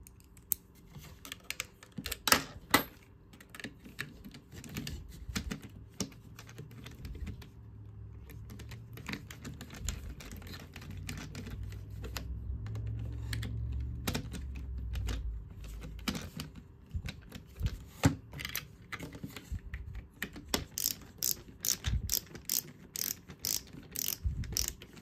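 Opening the gearbox of a Colt M4 CQB-R airsoft gun: small close-up clicks, taps and ratcheting metal and plastic sounds come in irregular clusters, with a low rumble of handling in the middle.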